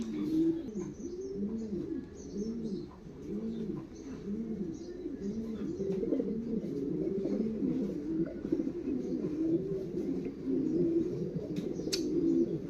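A four-month-old stencil Lahore pigeon cooing close by in a steady repeated rhythm of soft, rolling coos, with faint chirps in the background.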